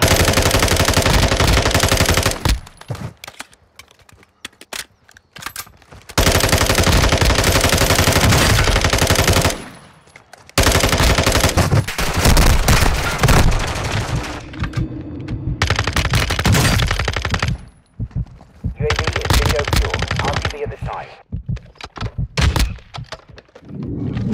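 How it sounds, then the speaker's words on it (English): Gunfire in a military video game: loud, dense bursts of automatic fire and heavy impacts, broken by short pauses, running close and intense throughout. "You are taking effective fire."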